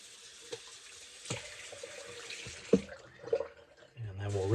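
Water splashes and trickles during shave prep as bloom water from a soap puck is used on the face, with running and dripping sounds, handling clatter and a voice speaking briefly.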